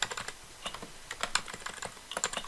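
Rapid clicky computer keyboard presses for shortcut keys during coding, a quick irregular run of light taps, close and fairly quiet, with no voices.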